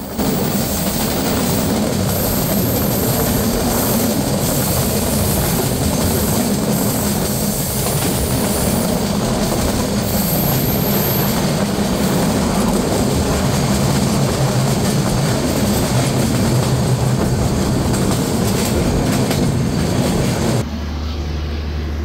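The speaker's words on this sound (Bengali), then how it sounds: "ট্রেনটি প্রবেশ করলো মোবারকগঞ্জ রেলওয়ে স্টেশনে" Sagardari Express passenger train running on rails near Mobarakganj railway station, a loud continuous rumble and rattle of wheels from on board that cuts off abruptly near the end.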